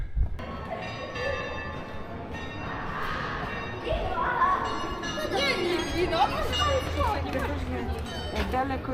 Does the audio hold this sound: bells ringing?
yes